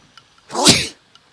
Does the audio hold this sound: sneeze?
yes